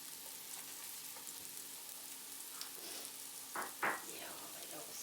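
Onions and garlic sizzle quietly in a pan, a soft steady frying crackle with a few brief stirring scrapes near the end.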